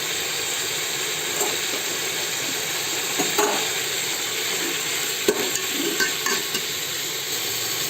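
Greens with a pinch of turmeric fry in a pan in a village-style leafy dish, giving a steady loud sizzle and hiss with a few soft stirring scrapes, no voices.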